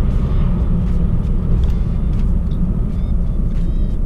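A BMW E90 sedan drives along and slows down, its engine and road rumble a steady, fairly loud interior drone from start to finish with no one talking.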